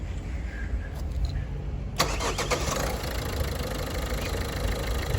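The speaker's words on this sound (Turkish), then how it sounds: "Şimdi bir marş yapacağız." A Ford Courier engine cranks and fires after an oil change, then settles into a steady, close idle that runs to the end over low background rumble.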